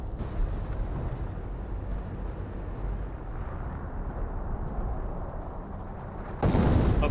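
An off-map artillery barrage in Company of Heroes rumbles as a continuous low roar of distant blasts, ending with a sudden louder, closer burst.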